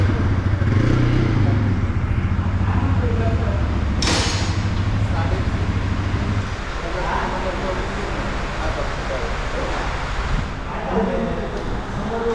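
A Bajaj Pulsar NS200 motorcycle being ridden after servicing, its engine giving a continuous, steady drone close to the rider, mixed with road and traffic noise, and one sharp clatter partway through.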